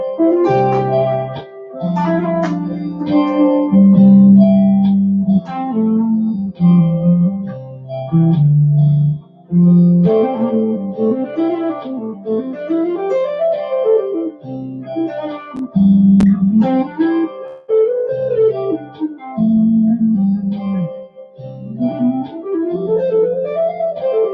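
Looped electric guitar phrase with effects and distortion plays on while a lead line solos over it, with sustained bending notes, steady and fairly loud with no talking.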